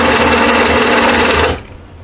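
Shop bandsaw cutting a workpiece with a loud steady whine and buzz of blade and motor, close up, then the cut ends and the sound suddenly drops away to quiet.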